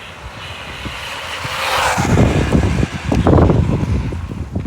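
An Arrma Mojave Grom RC truck on a 3S battery with an upgraded 25mm Rocket motor, running full throttle. It gives a rising electric motor whine, then rough, rattling bursts of tyre and drivetrain noise as it tears off nearby.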